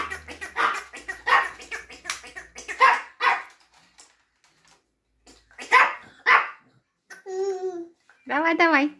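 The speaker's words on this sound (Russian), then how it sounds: "Напугала всех собак." Dogs bark in a few sharp, loud bursts, mixed with a toddler's babbling and a voice nearby.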